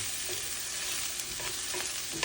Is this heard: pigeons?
no